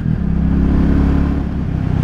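A Royal Enfield Bullet 350 single-cylinder motorcycle engine while riding, a loud, close, steady low thump with a rapid even pulse and mechanical clatter, no voices.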